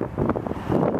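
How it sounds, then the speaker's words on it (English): Strong wind buffets an outdoor microphone at a highway rest area in Indiana, a continuous low rumbling roar with gusty swells and no talking. "Sorry, it's too windy."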